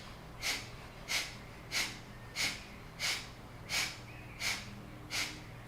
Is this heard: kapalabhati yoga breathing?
yes